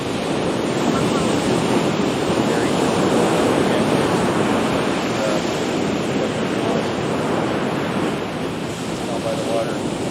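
Ocean surf breaks continuously at Makapu'u beach on Oahu, a loud, close, unbroken roar of waves mixed with wind buffeting the microphone, with no clear voices.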